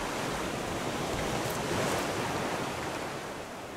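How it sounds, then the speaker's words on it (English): Ocean waves in the Raft survival game roll and wash as a loud, continuous surf rush, with no speech over it. "It's super noisy right now because of all the waves and stuff"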